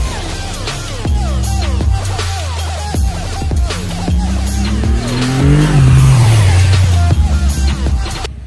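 A Kawasaki Ninja H2 on a racing track revs hard through rising and falling gear changes, loud and close, with repeated sharp accelerations and a long climbing whine.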